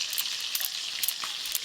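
Thick chunks of a large fish fry in a pan, giving a soft, steady sizzle with faint crackles and pops.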